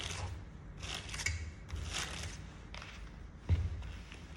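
Scissors snip repeatedly while trimming a wet curly copper bob lace-front wig, giving several close, crisp cuts spaced about half a second apart, with a light thump near the end.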